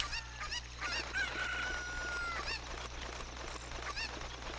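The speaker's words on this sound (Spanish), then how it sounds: "Aventamos de nuevo a la gallina y nos trepamos." Cucco chickens in the Nintendo 64 game Zelda Ocarina of Time Master Quest, repeated short squawking clucks over a low steady game hum, fairly faint, with no talking.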